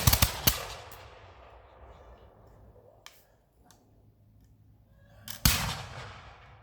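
Black powder muskets fire in volleys during a safety certification class: a sharp loud blast opens, a second report follows, then a lull with faint crowd noise before another loud volley near the end, each trailing off in a rolling echo.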